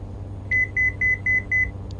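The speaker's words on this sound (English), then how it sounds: "Don't know what that beep means." A cockpit beep in a Black Square Caravan flight simulator sounds five times in even, quick succession, a clear high electronic tone over a low steady engine drone.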